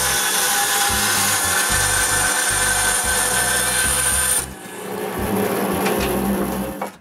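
Small wood pieces being sawn to repair window frame rabbets, a loud close rasping saw stroke repeated in a steady rhythm, pausing briefly midway before resuming with no talk.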